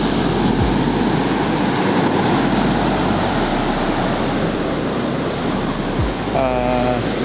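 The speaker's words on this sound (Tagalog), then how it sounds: "Ay, lakas ng alon no?" Strong ocean waves crashing at Dinahican Beach in Infanta, Quezon, in rainy weather: a loud, unbroken roar of surf filling the whole stretch, with a faint voice briefly near the end.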